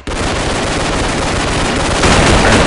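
Continuous, very loud automatic fire from the CROW-7 rifle in the shooter game Counter-Strike Online, a dense unbroken stream of shots that grows slightly heavier toward the end, with no voices.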